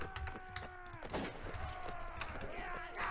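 Gunfire in the video game Nova Aetas: a rapid series of sharp shots rings out over a musical drone, with a louder cluster of bangs partway through, all moderately loud in the mix.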